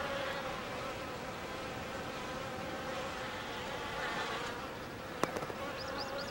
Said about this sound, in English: At the height of summer, the grass is alive with insects.